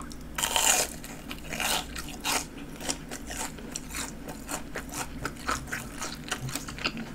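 Crunchy fried king prawn with a thick batter coating, bitten and chewed close to the microphone, giving repeated crisp crunches and scraping chews in an uneven rhythm, loudest at the start and softer as the chewing continues.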